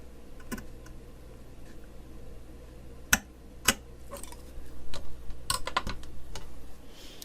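Paper trimmed to size on a cutting tool for a handmade card, heard as a few sharp isolated snaps and clicks over a low steady hum, with a faint scraping stretch near the end.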